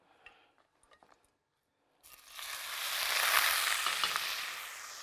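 Grated onion drops into melted butter in a pan and begins to sizzle loudly after a couple of seconds of faint kitchen clatter, the frying hiss swelling and holding steady, close and without talk.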